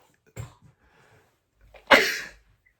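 A single sharp sneeze bursts out near the end after a brief breathy intake, close and loud against near silence, with a small throaty sound before it.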